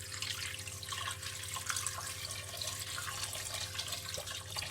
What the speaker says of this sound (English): I put the peel in the pot and I'm going to pour cold water